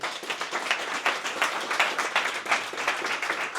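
Audience applause for Luigi Marci, an architect, at a Belgian real estate networking event: steady, dense clapping from a crowd that holds even for a few seconds, with no talk over it.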